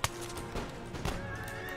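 Horses neighing amid a battle in the strategy game Empire: Total War, short whinnies over a busy backdrop of hooves and combat noise, fairly close and moderately loud.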